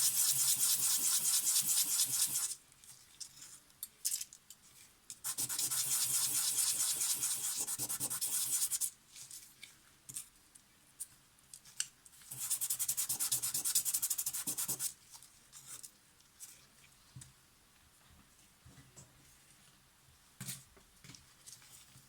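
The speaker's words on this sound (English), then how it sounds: "Now this one is a bit nasty around the edges, so I will just sand it down a bit." Two long bursts of sanding on a Zorki 3M camera part, smoothing rough edges, each lasting a few seconds, loud and close, separated by quieter stretches of faint handling clicks and scrapes.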